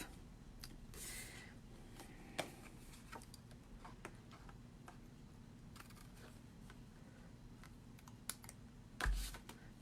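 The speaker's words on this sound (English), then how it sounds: "let me grab my paper snips here. And we're just going to cut this piece off" Paper snips cutting card for an Easter card, faint crisp snipping and tapping clicks scattered across a quiet room, with a heavier rustle near the end.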